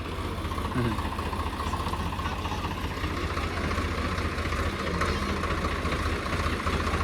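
A tractor engine idles close by in a village yard in Botad during the monsoon, a steady low throbbing drone that stays even and continuous throughout, with no talking over it.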